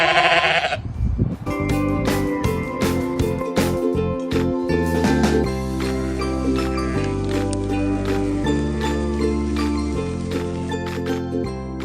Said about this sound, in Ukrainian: Овечка каже бе, бе, бе.